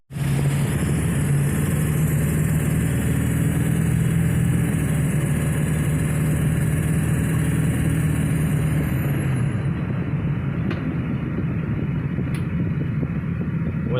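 Ford F350 truck with freshly repaired brakes driving along, its engine a steady, loud drone throughout, with the sound dropping slightly in the last few seconds.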